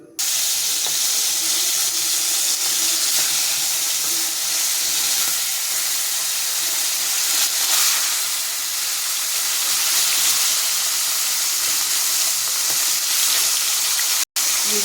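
Salted, turmeric-coated koi fish fry in hot oil, giving a loud, steady sizzling hiss that runs unbroken for about fifteen seconds with no voices.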